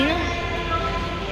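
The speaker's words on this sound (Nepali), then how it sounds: "यहाँ हतार चाहिँ ट्रेन आउँदैछ" A train pulling into a station in Osaka, Japan, with a rising tonal whine and steady rumble of the approaching cars, while people talk nearby.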